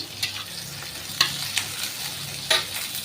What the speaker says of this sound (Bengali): পেঁয়াজ রসুন কাঁচা লঙ্কা আর কালো জিরে কুচি কুচি করে দিয়ে দিয়েছি তেলের মধ্যে